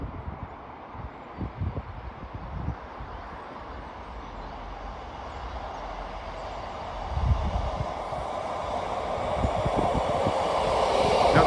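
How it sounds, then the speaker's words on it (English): A Class 66 diesel locomotive creeps past hauling a heavily loaded intermodal freight train, a low rumble and rolling wagon noise that grows steadily louder toward the end, heard from beside the line at a station. "Intermodal 66 creeping up. Well loaded intermodal."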